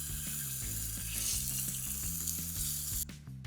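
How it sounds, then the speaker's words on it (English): Lamb shanks sear in a hot pan with a steady, close sizzle and crackle over a low background hum; the sizzle drops abruptly near the end. "Let's get these shanks into a pan. We're looking for a nice sear on each side."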